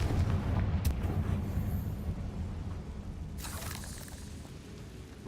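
The Confringo fire spell explodes in Hogwarts Legacy: a booming burst rises out of a dense rumbling game background partway through, followed by crackling debris, with no one speaking.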